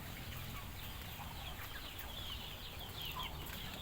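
Chickens cluck on a rural farm yard alongside ducks and goats, soft scattered clucks under a constant hiss of outdoor background noise.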